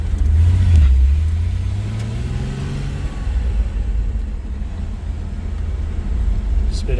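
A 1993 GMC Sonoma pickup cruises on the I-95 highway, heard as a steady low rumble of road and engine noise from inside the cab, with a brief rising engine tone near the start.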